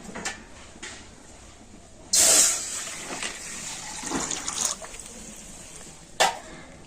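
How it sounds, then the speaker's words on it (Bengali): Water poured into a kadai (wok), a sudden loud gushing splash followed by softer trickling and a few clanks of the pan, close by with no talking. "আর এবার আমি কড়াতে দিয়ে দেবো জল"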